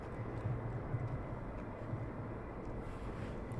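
Military jet engines starting up at RAF Lakenheath during surge operations, a steady distant low roar and rumble with faint tonal whine, continuous throughout and no talking.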